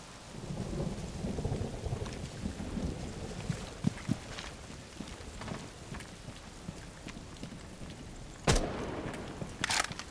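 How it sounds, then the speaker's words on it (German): Steady rain pours in a Rainbow Six Siege match, with low thunder rumbling under it and two sharp, loud thunderclaps cracking near the end. "Der Regen ist hier aber auch schön."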